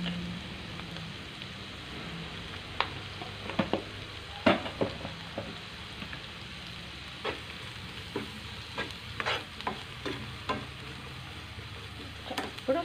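Onion-and-turmeric masala for egg masala dosa frying in a pan, a quiet steady sizzle broken by repeated scraping stirs and clicks of a spatula, close and fairly faint, with no talking.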